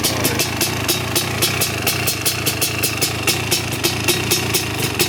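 A 4x4 ATV engine with a ported ripper setup and race gas runs loud and close, its revving pulsing in a steady rapid rhythm with a rattly, throaty exhaust note and no voices over it.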